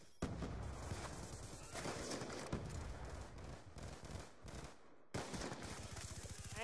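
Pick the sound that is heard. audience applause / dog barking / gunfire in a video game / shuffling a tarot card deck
gunfire in a video game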